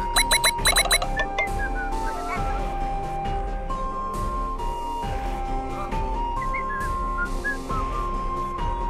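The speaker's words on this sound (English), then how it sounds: "People are whistling." Several people whistle short melodic phrases over a steady game soundtrack in the video game DotAGE, with a bright burst of whistles at the start and scattered tunes drifting in and out over a low ongoing bed.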